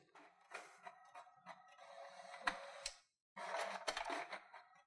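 A printer prints a page sent from an iPad via AirPrint, giving soft mechanical whirring and clicking in uneven bursts, with a brief pause before the feed resumes.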